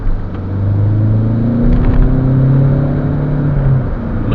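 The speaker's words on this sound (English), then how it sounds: "Let's see if we get a quicker, more responsive transition through the gears." A 2011 Peugeot 508 1.6 e-HDi diesel in sport mode accelerates through its gears, a loud steady engine drone heard from inside the cabin with rising tones that shift as gears change.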